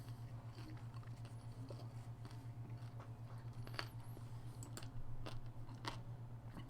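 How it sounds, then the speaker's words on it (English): Faint, close chewing and crunching comes in irregular bites and clicks over a steady low hum in a quiet room. "Sorry about the chewing sounds."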